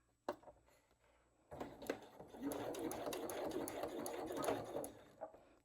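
A sewing machine runs a basting stitch across a dopp kit, a brief whir first, then a sustained rapid mechanical chatter for several seconds before slowing to a stop, close and fairly loud.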